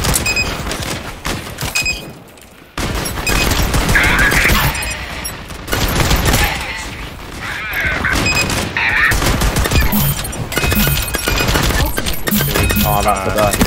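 Loud bursts of gunfire in the shooter game LEAP, repeated volleys and blasts across the whole stretch with brief lulls between them, amid dense game noise and occasional voice.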